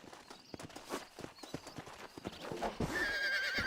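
Hooves clip-clop on the ground as a horse in Red Dead Redemption shifts and steps, a rapid uneven patter that ends in a loud, drawn-out neigh and whinny.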